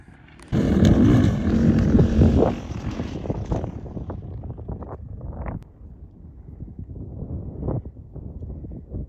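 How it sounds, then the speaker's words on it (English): Dirt bike on a steep desert hiking trail, its engine rising suddenly loud and close, then fading and revving unevenly as it climbs away, with wind buffeting the microphone. "Somebody on a dirt bike coming"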